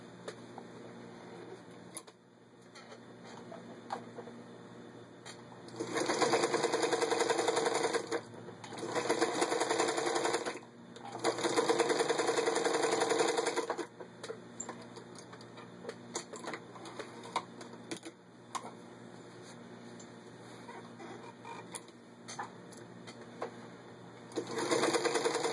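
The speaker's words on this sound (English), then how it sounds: "And just to show you how well the machine sews." Vintage 1954 Singer 221-1 Featherweight sewing machine stitching through six layers of denim, with several bursts of rapid mechanical clatter lasting a few seconds each, separated by quieter pauses and light handling noises, close and clear.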